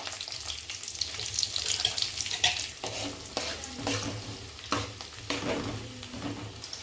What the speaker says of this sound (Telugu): ఈ దినుసులు వేగిన తర్వాత ఉల్లిపాయలు వేసుకుందాం.